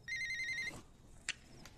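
A phone rings with an incoming call: a short, bright electronic ringtone tone followed by a couple of brief sharp blips, faint and close.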